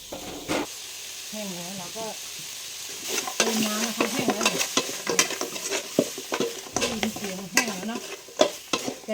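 Pork is stir-fried in a pot without added oil, its own fat rendering out, giving a close sizzle and repeated scraping stirs of a utensil against the pot while someone talks over the cooking.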